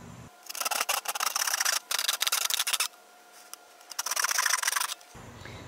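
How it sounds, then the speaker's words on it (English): A handsaw cuts through a plastic bucket in rasping bursts of short back-and-forth strokes, close and crisp, with brief pauses between runs of sawing and no talk. "Now we'll use our handsaw to cut out our marking."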